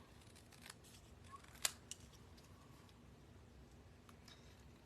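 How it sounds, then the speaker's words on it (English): Scissors cutting paper card for a gift card holder, a few faint, close snips and clicks, one sharper than the rest, over a quiet room. "It's just nice straight lines and easy to cut."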